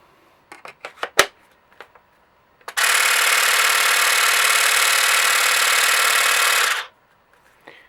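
After a few short clicks and knocks, the motor of a Tekhmann TCGT-8/I20 cordless grass trimmer on a 4 Ah battery spins up into a loud, high, steady whir for about four seconds, then winds down to quiet.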